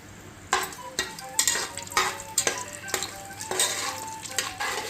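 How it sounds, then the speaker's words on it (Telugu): Whole spices, cardamom, cinnamon, star anise, cloves and bay leaf, fry in hot oil for pulao, with a crackling sizzle broken by repeated close scrapes and clinks of a spoon stirring against the pan. "వీటిని వేపుకోవాలి మనం."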